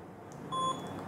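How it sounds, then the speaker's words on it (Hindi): A morning alarm clock gives a short, high electronic beep, brief and moderately loud against a soft room hiss. "ये मेरे सुबह का अलार्म"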